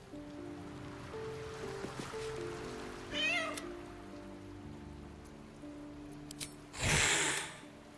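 A video game cat meows twice, a short rising call and then a louder one, over a steady bed of rain and ambient music.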